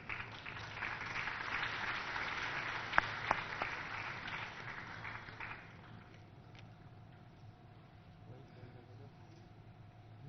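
A large audience claps to welcome Prime Minister Narendra Modi at the inauguration of the International Basava Convention. The dense, roomy applause swells, then fades out around the midpoint, leaving a quieter hall with faint voices.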